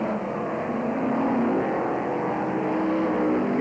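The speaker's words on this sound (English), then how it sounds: "So Junior Wayman there in the rapid orange Chevrolet powered special up into second place." A Chevrolet-powered special race car at a 1997 Brafield oval race, a continuous, steady engine drone heard from a distance with no talk over it.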